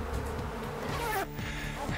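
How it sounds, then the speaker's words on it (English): Steady, dense buzzing of many killer bees swarming close by, continuous throughout with no talking. "You generally don't mess around with killer bees,"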